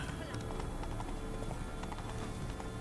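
Steady galloping hoofbeats of a unicorn, a horse with a horn on its head, ridden in the video game The Witcher 3: Blood and Wine, clopping continuously under dense game ambience and a voice.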